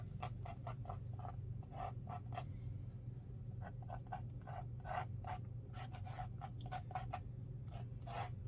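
A watercolor painting is scraped to make tree marks, giving quiet, irregular bursts of short raspy scratches against paper, some in quick clusters, over a low steady room hum.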